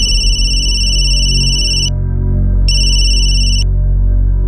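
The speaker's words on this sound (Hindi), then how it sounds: "मैं सुनील को फोन करता हूँ।" A mobile phone ringtone sounds in a Hindi crime-drama scene as two loud, close bursts of bright electronic beeping with a short gap between them, over a low droning background.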